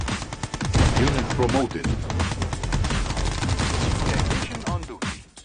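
Dense gunfire crackles continuously in the real-time strategy game Mental Omega, with rapid overlapping shots and small explosions filling the scene. A synthetic unit-announcement voice speaks over the battle.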